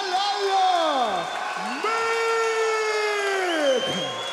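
A packed UFC arena crowd roars and cheers for Norwegian fighter Emil Meek, a steady broad wash of noise under a ring announcer's long, drawn-out amplified call that rises and falls.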